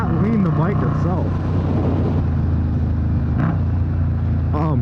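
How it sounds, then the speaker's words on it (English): A motorcycle engine heard from the rider's position, revs rising and dropping through quick downshifts under a steady roar of wind, with a rider talking over it. "the downshift on this bike"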